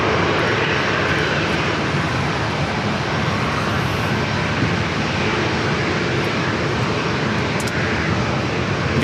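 A jet airliner takes off at San Diego airport, its steady, loud broadband engine roar filling the whole stretch without letup and with no talk over it.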